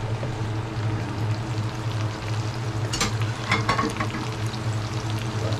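Food with pepper and pechay drops into a hot pan and fries, a steady close sizzle with a louder burst of crackling and spattering midway as the ingredients hit the oil.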